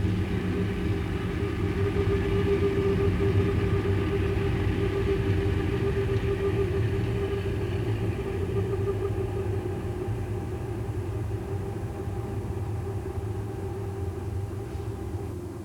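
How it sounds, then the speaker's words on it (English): Historic BLS Swiss parade locomotives pass close by near Kandergrund, giving a loud, steady rumble of engine and wheels that holds throughout, slowly easing off toward the end. "the parade locomotives returned together to Spiez, saluting our crew as they pass"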